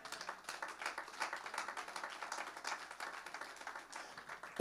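Church congregation clapping in praise of the Lord during a French-language sermon, a steady, dense patter of many hands at moderate distance, rhythmic and continuous without voices on top.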